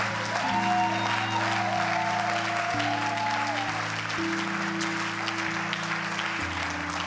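A church congregation claps for the Lord, steady sustained applause over held musical tones throughout.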